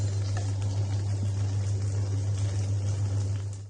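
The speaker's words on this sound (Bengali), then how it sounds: "পাঁচ মিনিট পর আমরা চিকেন পিসগুলোকে উল্টিয়ে দিচ্ছি" Marinated chicken pieces frying in a pan while being flipped, giving a steady, fairly loud sizzle with a constant low hum underneath and light crackle throughout, no voices.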